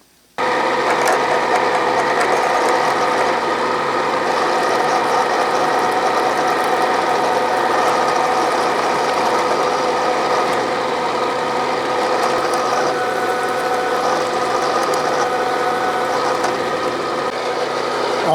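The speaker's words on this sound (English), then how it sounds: "This is the 5/8 end mill. That's going to give me a flat bottom hole." A 5/8 end mill bores a flat-bottom hole in metal on a milling machine, making a loud, steady, grinding machine drone that runs unbroken from start to finish with no speech.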